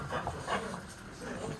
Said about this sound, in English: Dogs are freaking out.